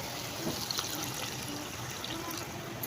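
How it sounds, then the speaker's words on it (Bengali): Water pours into a pan where pabda fish curry with turmeric is cooking: a continuous close trickling stream fills the whole short stretch at a steady level. "নাড়াচাড়া করে নিয়ে এবার জল দিয়ে দেবো এবার দেবো জল"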